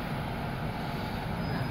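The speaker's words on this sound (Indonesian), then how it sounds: "Angin lah iya." Steady outdoor wind buffeting the microphone near a row of double-decker buses, a constant low rumbling roar with no talk over it.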